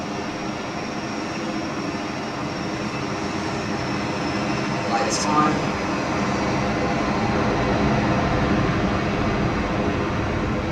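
A Boeing 727 in the FSX flight simulator gives a steady, broad jet engine roar that holds loud and constant throughout, with a person speaking briefly over it.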